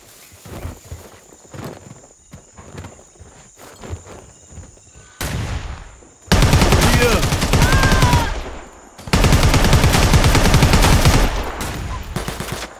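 Video game gunfire in a clash-mode match: scattered shots and sharp bursts early on, then two long, loud sustained volleys of rapid automatic fire, with brief quiet gaps and faint background sounds between.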